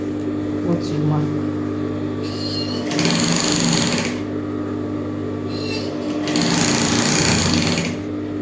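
A sewing machine stitches a straight seam on a three-quarter-length straight skirt. Two loud, steady runs of motor whir are separated by quieter pauses.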